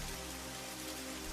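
Steady rain pours in a cartoon, a dense even hiss of drops on surfaces, heard alone and quite faint throughout.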